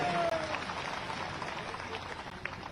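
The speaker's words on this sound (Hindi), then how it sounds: "इनका तो जोरदार स्वागत करो ताली बजाए।" A crowd at a Bharatiya Janata Party political rally in Madhya Pradesh claps in a steady, dense wash of applause that stays fairly even and fades slightly toward the end, with faint crowd noise mixed in.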